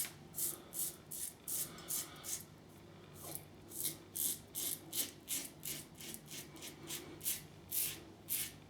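Quiet, rapid rasping strokes of a carbon steel safety razor scraping across stubble, repeating in a steady back-and-forth rhythm, close up with no talking.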